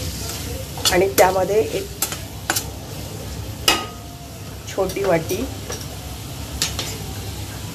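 Prawn masala bubbles and sizzles in a pan while a spoon stirs and scrapes through it in short bursts. A person talks over the cooking.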